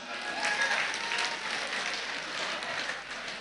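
Guests at a Kazakh circumcision celebration clap together in steady, dense applause that fills the room at moderate loudness, a continuous patter of many hands with no pauses and no talk rising above it.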